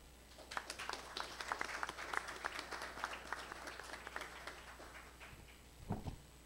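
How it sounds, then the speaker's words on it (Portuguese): Soft applause from a gathering at a local community event, a steady patter of many hands clapping at a distance, easing off near the end, with a brief voice just before it stops. "ela merece todos os aplausos."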